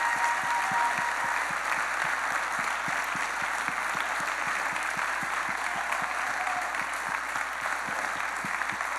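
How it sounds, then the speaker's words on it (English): An audience at a Brentwood College School winter concert applauds the performers with steady, even clapping, a continuous room-filling patter with a faint rhythmic thump beneath it. "So one more round of applause for all these wonderful performers."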